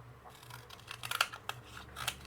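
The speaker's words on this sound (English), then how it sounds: "now we're going to cut this out" Scissors snip around a dried craft piece for a handmade tassel doll, making a series of quiet, close, crisp cuts at an uneven pace with no talking.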